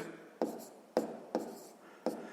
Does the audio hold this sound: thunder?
no